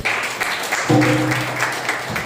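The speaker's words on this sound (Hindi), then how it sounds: "जोरदार ताली बजाइए।" A congregation at a Sunday morning church service clapping loudly, with a sustained tone, likely an instrument or a voice, entering under the clapping partway through.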